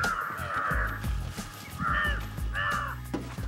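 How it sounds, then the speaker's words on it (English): Crows give loud, harsh caws in several bursts close by, overlapping a low background rumble, with no talk. "Like crows!"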